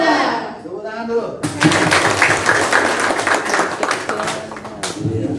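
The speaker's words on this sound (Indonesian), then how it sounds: "Tepuk tangan dulu." Audience clapping hands at a youth guidance gathering, a loud burst of dense applause that starts abruptly after a spoken voice, holds steady for several seconds, then cuts off as talk resumes.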